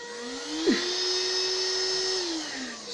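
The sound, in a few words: vacuum cleaner running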